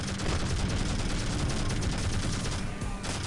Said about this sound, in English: we're just going to keep bullying the inventory with the main gun